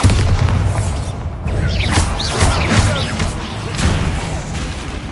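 An explosion set off by the Bombarda spell in GTA IV, a low rumbling boom that stays loud and dense for several seconds with crackling debris bursts on top.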